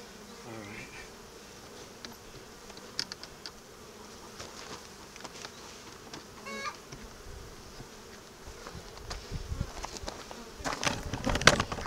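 Honeybees buzzing around an opened polystyrene hive: a steady, close, droning swarm with scattered handling knocks, growing louder and busier toward the end.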